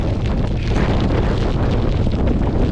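Strong wind buffets the microphone on an outdoor walk, a loud, continuous low roar with rumbling gusts and no break, drowning out any other sound.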